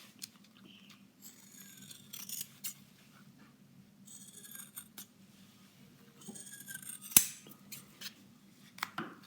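Scissors snip away excess material at the pump toe of a shoe being lasted, a few quiet, close cuts with soft crisp clicks over a faint background hum.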